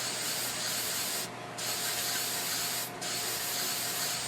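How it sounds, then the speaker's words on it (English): Spray paint hisses onto model tree foliage in a continuous close burst, broken by two short pauses before the spray resumes, with no talking. "spray it on all around on just the foliage."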